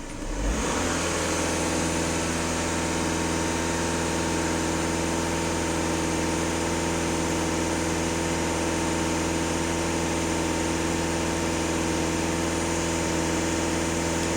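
Skoda Superb 2.0 TDI diesel engine held at raised revs of about 2,500 rpm with an EGR fault under repair, a close, steady, dense mechanical drone starting with a quick rise and holding constant, no talking.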